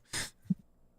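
A person sneezes once, a short breathy burst loud and close, followed by a brief low thump and quiet room tone during a tabletop game session.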